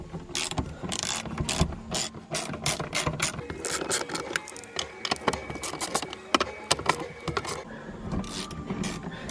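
Ratchet wrench clicking in quick, uneven bursts while undoing 10mm bolts on the gear shifter of a Mazda FD RX7, close and fairly loud, with brief pauses and metallic knocks between runs.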